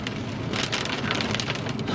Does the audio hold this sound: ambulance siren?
no